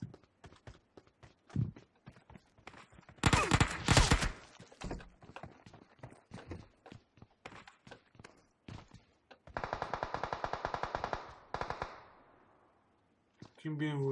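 Gunfire in PUBG Mobile from guns such as an Uzi and UMP, heard as rapid bursts and single shots in a fast rhythm, with one long steady automatic burst near the end, over ambient game sound.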